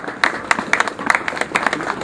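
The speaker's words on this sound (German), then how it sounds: "Ist wohl Applaus wert." Applause from a small crowd at an outdoor Christmas market in Bad Krozingen, scattered uneven hand claps that rise and fall over a couple of seconds, fairly close and with no voices over them.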